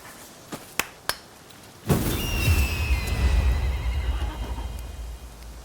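A horse whinnies loudly in the PS5 game Rise of the Ronin, following a few sharp clicks, then trails off into rumbling noise.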